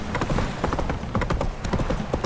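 Roach the horse runs in The Witcher 3, hooves clattering loudly and close in a fast, continuous clip-clop beat.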